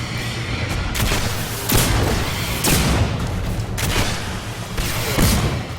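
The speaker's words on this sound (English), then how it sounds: "It's a lot more action intense to see rockets fly and Radions blow up" Rockets and gunfire exploding in the shooter game Singularity: repeated heavy booms and blasts land roughly every second over steady rumbling combat noise, loud and close.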